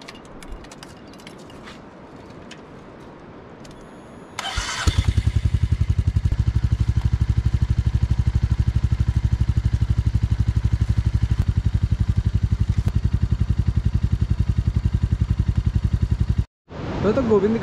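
A Tiger motorcycle in a rainy mountain village starts up, and its engine settles into a loud, rapid, steady idle that runs with no break until it cuts off near the end. Quieter ambient sound comes before it.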